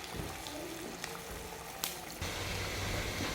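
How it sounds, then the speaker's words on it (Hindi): Chicken pakora coated in white sesame seeds deep frying in hot oil, a steady bubbling sizzle with occasional crackles and a brief clatter, moderately quiet, no talk. "ये बहुत ही अच्छे से फ्राई हो चुके हैं"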